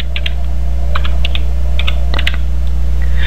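Rapid typing on a computer keyboard enters text in graphic design software, with irregular clusters of close, crisp key clicks over a steady background hum.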